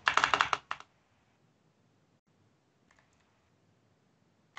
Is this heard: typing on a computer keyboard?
yes